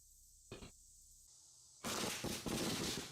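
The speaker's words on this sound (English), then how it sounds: "these are just fireworks" Fireworks go off in a few sharp bursts: one short crack early, then a louder, denser run of crackling pops that continues to the end, with no voices.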